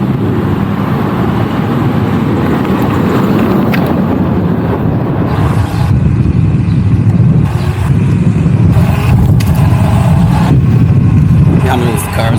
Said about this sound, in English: This is actually crazy, the amount of traffic right here.